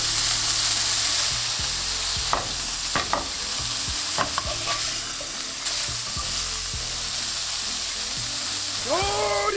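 Chicken burger patty frying in a pan, a steady close sizzle throughout with scraping and stirring clicks and light pan taps over it.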